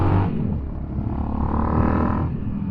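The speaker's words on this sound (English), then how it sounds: "Here will be some good exhaust sound." Deep, steady exhaust rumble from a motor vehicle on a ride through Florence, Italy, a close, continuous low drone with slight swells and no speech.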